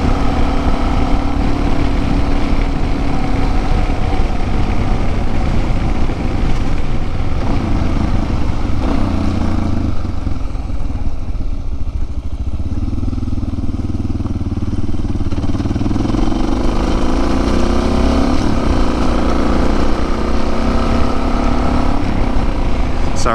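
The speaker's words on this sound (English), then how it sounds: "Sorry if you ride a DR and you hate the sound of me bogging the engine" Suzuki DR dual-sport motorcycle engine bogging on a local trail ride, a loud continuous low rumble with uneven, sagging revs and wind noise throughout, alone without talk.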